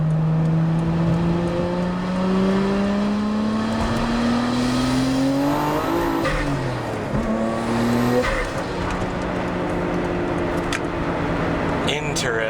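A Nissan Skyline GT-R R33 Autech Version 40th Anniversary revs up, its engine note climbing steadily and dropping back between pulls, loud and close, with a voice talking over it.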